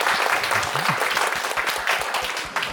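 A meetup audience at a round-table event claps for a little under three seconds, steady and fairly close, with a voice faintly underneath.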